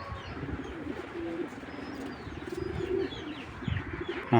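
Racing pigeons coo in low, repeated throaty calls close by, with soft chirps and rustling mixed in.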